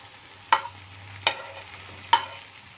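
Burger meat fries in a pan with onion and tomato and is stirred, giving three distinct close scraping clacks of the utensil over a low, steady sizzle.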